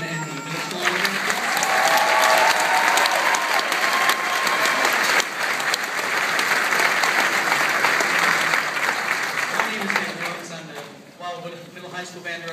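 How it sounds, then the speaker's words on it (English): An audience applauds the middle school honor band at a symphonic band concert, the clapping steady and full for about ten seconds before it thins out and gives way to a faint voice. "we hear it one more time for Dr. Chipman and the middle school honor band"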